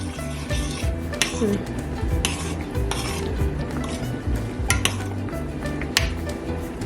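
Beef curry (kaeng om) is stirred in a pot after rice powder goes in, close scraping and clanking of a spoon against the pan over a soft sizzle, with brief louder knocks.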